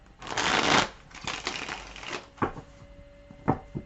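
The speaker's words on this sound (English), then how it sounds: "So get comfortable while I shuffle these cards." Tarot cards are shuffled up close, with a dense riffling burst followed by several softer shuffles and a few sharp individual slaps of the deck.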